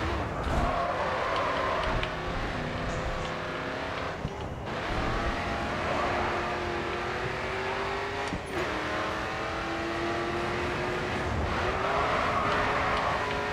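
A race car in GRID 2 with manual transmission drifts through a turn: a steady engine drone with shifting pitch as it downshifts, tyre noise running underneath, loud and continuous throughout.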